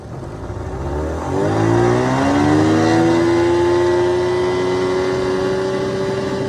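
The outboard motor on a 1998 Carolina Skiff J16 with a rebuilt carb and hydrofoil whale tail roars up on a hole shot, pitch climbing steeply over the first seconds and then holding a loud, steady high whine.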